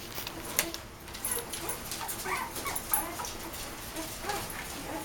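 A litter of ten 2.5-week-old puppies whimpering and yipping together in a steady overlapping chorus of thin, high cries, close by and continuous.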